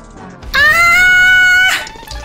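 A person screams in pain after stepping on a toy block, one loud sustained high-pitched shriek of over a second that cuts off abruptly, with no talking.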